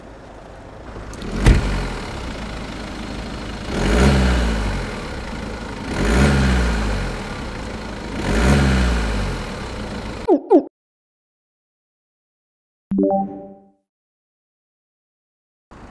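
A BMW 520d diesel engine idles with a low rumble, rising in four revving bursts, then cuts off to near silence with a brief mechanical sound afterward.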